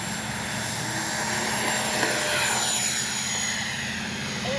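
An FMS SU-27 twin 70mm electric ducted-fan RC jet takes off into the wind, its steady high-pitched whine swelling as it passes, moderately distant and without talk.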